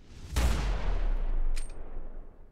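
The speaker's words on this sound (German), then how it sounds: "Ein starker Schuss." A single loud, sharp gunshot in The Secret World bursts out and rings into a long fading tail, followed by a faint metallic clink.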